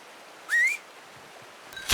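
A game character in Red Dead Redemption 2 gives a short rising whistle, a single clear note lasting about a quarter second. A faint click comes later, then a louder burst of noise at the end.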